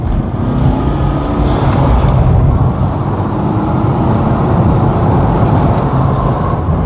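A Mercedes-Benz W204 car accelerating on the road, heard from inside as a steady low engine and road rumble that holds at a loud, even level throughout.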